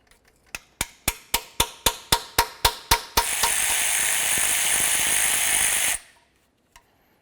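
Ratchet clicks in a quick series of about ten near, loud bursts, then a steady whirring power-tool run for a few seconds as oil pan mounting bolts come off a 2003-08 Toyota Matrix; a faint click follows.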